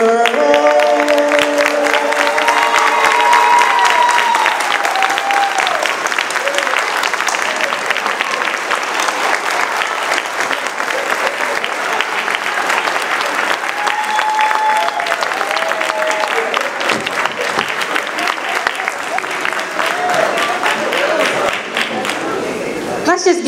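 A crowd gives sustained applause at a State of the City address, dense and loud throughout with some cheering and scattered voices mixed in.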